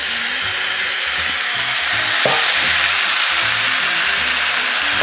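Webfoot octopus, cabbage and vegetables stir-fried in a hot wok produce a loud, continuous close sizzle, with one brief scrape partway through and soft background music underneath.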